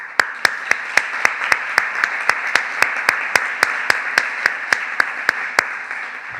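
At the closing of a foresters' meeting, an audience claps in unison for a participant: sharp, evenly spaced rhythmic claps ring out over a softer bed of scattered applause.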